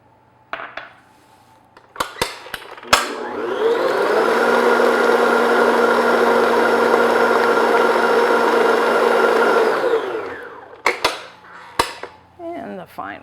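An electric mixer beats an egg into chocolate butter cake batter, a steady loud whir lasting about seven seconds, framed by sharp clinks of utensils against the bowl before and after.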